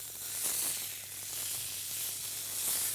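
Neck of lamb sears in a hot pan, a soft, steady sizzle and hiss that swells gently and eases back over a few seconds, close but fairly quiet, with no voices.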